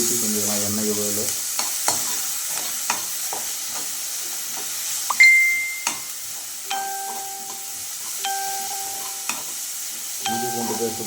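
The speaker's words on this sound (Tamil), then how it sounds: "இஞ்சி பூண்டு பேஸ்ட்டு போட்டோடனே கொஞ்சம் நல்லா அப்படியே சவுண்டு வர ஆரம்பிக்கும்" Ginger garlic paste frying in oil, with soft sizzling under clinks and scrapes of stirring, plus sharp utensil taps and brief ringing tones from a pan.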